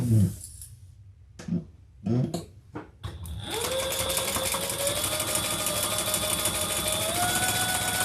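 A sewing machine top-stitches a handbag, starting after a few light handling taps and then running steadily at a constant, close hum.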